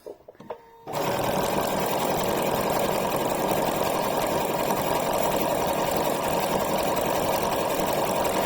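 A sewing machine runs a satin stitch over an existing zigzag, starting after a brief pause with a few soft clicks and then whirring loud and steady, its rapid needle rhythm continuous to the end.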